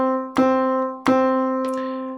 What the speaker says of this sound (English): Maybe I'll do it on the piano so you can hear the length of the notes.